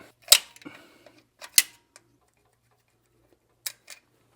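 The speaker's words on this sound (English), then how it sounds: "we'll just use a wrench as well to get those ones out" A wrench loosens bolts on a truck engine in a shop, giving a few sharp metallic ratchet clicks and ticks spaced apart, close and clear, with quiet gaps and no voice.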